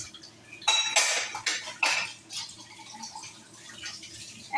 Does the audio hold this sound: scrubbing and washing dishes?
yes